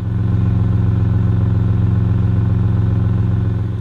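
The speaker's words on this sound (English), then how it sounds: "The exhaust sounds perfect." A Toyota idles after a cold start on a chilly day, its exhaust giving a loud, steady, even low rumble with a smooth rhythmic pulse, close and uninterrupted throughout.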